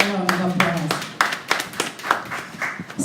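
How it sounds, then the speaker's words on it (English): Scattered hand claps from a conference audience, a thin, uneven patter of individual claps over a few seconds, with a voice speaking at the start. "Give yourselves a round of applause."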